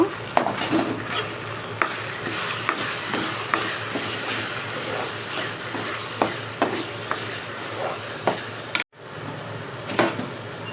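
Tomato pieces frying for a plantain curry, a dense steady sizzle in a pan with frequent spoon scrapes and taps against the metal, briefly cut off near the end before resuming.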